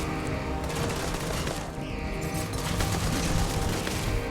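Turret gunfire rattles in the video game Starfield: a dense, continuous fusillade of rapid shots, loud and close, with no pause across the whole stretch.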